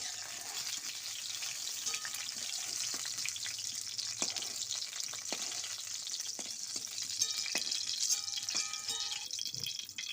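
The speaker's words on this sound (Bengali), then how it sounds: "পটলটাও আমার খুব ভালো করে ভাজা হয়ে গেছে" Sliced pointed gourd fries in hot oil for a Bengali potol chingri dish, a steady close sizzle with scattered pops and light crackles running the whole time and no voices.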